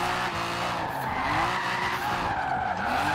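Ford Lotus Cortina power sliding in Forza Horizon 4, with a steady, loud tire skid and engine whine running continuously throughout, revving and wavering as the car slides.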